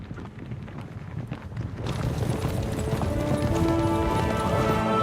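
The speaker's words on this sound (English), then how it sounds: "I hear horses." Horse hooves clip-clop steadily, growing louder as they approach, with wind noise in the background, in the video game Kingdom Come: Deliverance 2.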